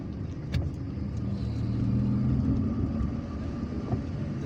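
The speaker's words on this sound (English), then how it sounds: "They are Mercedes buses made in Algiers." A Mercedes public city bus run by the urban transport company in Algiers idles and rumbles close by in street traffic, a steady low engine drone swelling slightly midway with no voices.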